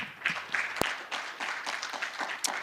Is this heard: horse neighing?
no